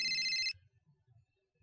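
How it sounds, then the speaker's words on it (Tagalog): A mobile phone ringtone plays a short bright electronic melody for about half a second, then cuts off, leaving a quiet room with faint low rustling. "Saan ba yung nagre-ring na yon?"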